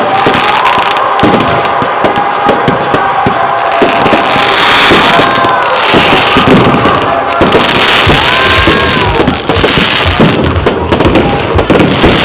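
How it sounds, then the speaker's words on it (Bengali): Fireworks at a New Year celebration bursting one after another, loud continuous crackling and popping with whistling rockets, and a crowd faintly audible beneath. "একটার পর একটা বাজি ফেটেই যাচ্ছে।"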